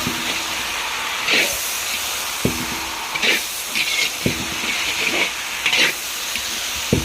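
Dang bori and potato mixture fries in a pan, a steady hiss and sizzle broken by repeated scrapes and knocks of stirring, close up with no speech.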